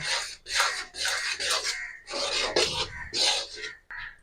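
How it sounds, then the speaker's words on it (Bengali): Rice flour mixed by hand into hot water in a pan on low heat, making rhythmic squelching, rubbing strokes in close succession, loud and close. "চালের গুঁড়ো দিয়ে ভালো করে মেখে নেবো"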